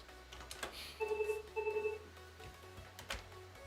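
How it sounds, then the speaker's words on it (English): A mobile phone rings faintly in the background, two short melodic bursts of ringtone about a second long each, amid soft clicks and room noise, with no talk over it. "The wife's phone's going off."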